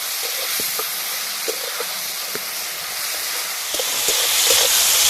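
Chopped tomato sizzling in hot oil with bay leaves and whole garam masala, a loud steady hiss with faint pops and crackles throughout.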